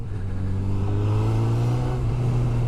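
A 2022 Honda CB1000R Black Edition roadster's smooth engine hums steadily and loud under acceleration, a continuous even drone heard up close with no break and no voices.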